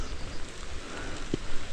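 Rain falling in the woods, a steady patter of drops on leaves and ground, moderately loud and continuous, with one brief knock partway through.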